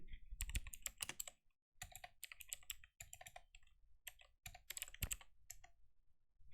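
A command is typed on a computer keyboard during a network security hacking session. The key clicks come in quick, close bursts separated by short pauses, quiet and with no talk.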